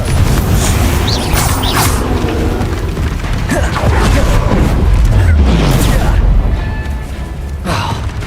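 A Confringo blasting spell explodes in Hogwarts Legacy, a loud booming burst amid continuous dense game effects and music, with a deep rumble trailing through the middle and further impacts near the end.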